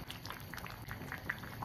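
A pot of stew with gochujang, water and meat simmers on the stove, giving a quiet, steady bubbling with small irregular pops and blips throughout.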